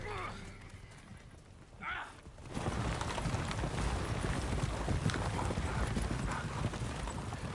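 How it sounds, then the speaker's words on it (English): Horse hooves galloping in the video game The Witcher 3: Wild Hunt, a dense, steady clatter of hoofbeats that builds after a quieter start with a short whinny-like call. "Nope, just going to ride the horses away."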